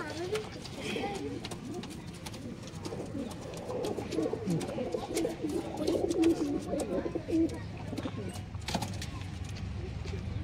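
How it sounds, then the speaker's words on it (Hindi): Breeder pigeons at a pigeon market coo steadily amid a busy mix of bird calls, with voices talking nearby throughout. "ये ब्रीडर कबूतर है दोस्तों पूरे"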